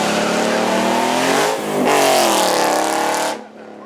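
Ford Mustang Mach 1 with a stage 4 naturally aspirated engine build, loud close engine roar rising through revs, a brief dip, then climbing again before cutting off, at a supercar show.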